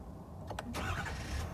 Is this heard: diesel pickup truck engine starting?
yes